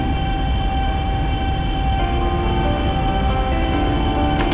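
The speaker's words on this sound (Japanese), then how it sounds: "2番線ご注意ください。 電車入っております。" A 500 series Shinkansen pulling into a station platform in the Densha de Go train simulator, a steady loud rolling rumble with sustained tonal hums building toward the end.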